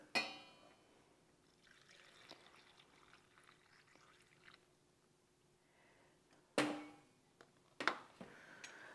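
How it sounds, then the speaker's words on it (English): Hot water poured into a canning jar packed with raw beans, a faint trickling fill running most of the clip before a couple of sharper clinks and knocks near the end. "And so we're going to add this hot water."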